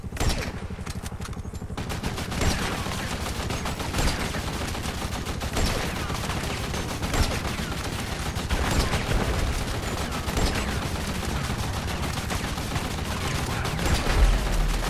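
Sustained gunfire during a convoy attack in the video game GTA V, rapid bursts and rattling shots packed almost continuously, with thuds and clatter mixed in and loud throughout.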